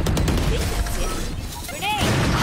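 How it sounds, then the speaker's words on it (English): A flashbang grenade in a first-person shooter video game goes off amid busy gunfire, followed by a brief high ringing whine before the battle noise resumes. "Flash out! Blinding!"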